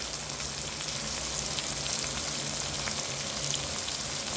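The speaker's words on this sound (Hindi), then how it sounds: "अच्छी तरीके से मसाले की भुनाई कर लेंगे 10 से 15 मिनट।" Masala of red chili, whole chilies, turmeric, coriander powder and salt frying in a pan for an arvi dish, a steady, soft, even sizzle with no pauses.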